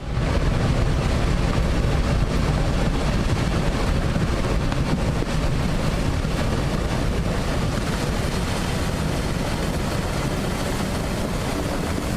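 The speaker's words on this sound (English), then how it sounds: "Raging floodwaters sweep away an entire house" A loud, steady roar of rushing floodwater sweeping away a house, broad and unbroken throughout, with wind buffeting the microphone.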